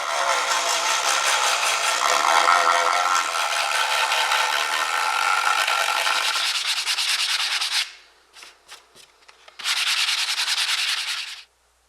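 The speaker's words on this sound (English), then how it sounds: "resand the area to remove the glue from the misplaced handle." Power sanding on a walnut wood pizza peel, clearing glue left by a misplaced handle: a loud, steady gritty whir for about eight seconds, a few short bursts, then another sustained run, with no one talking.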